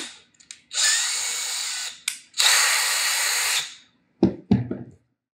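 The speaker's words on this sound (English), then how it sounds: "we're going to get ready for some more heat gun action" A heat gun blows in two sustained bursts of steady hissing airflow while PVC prop joints are shaped, followed by a few short clicks and knocks.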